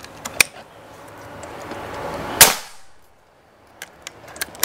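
A PCP Predator Bocap Black Army Phantom air rifle fires one loud, sharp crack at close range, bracketed by small mechanical clicks and ticks before and after in an otherwise quiet space.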